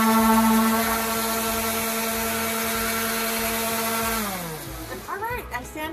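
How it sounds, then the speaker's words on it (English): A power sander grinds dried wood filler off an armoire, a loud steady whine running for about four seconds before winding down and stopping, with faint handling noise after. "All right, I sanded off the wood filler."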